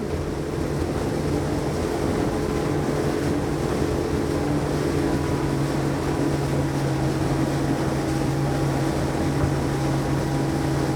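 A Saxdor 270 GTO motorboat runs at about 30 knots, its outboard engine droning steadily with a constant hum and rushing water noise, loud and unbroken throughout.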